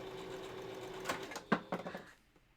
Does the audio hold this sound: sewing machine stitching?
yes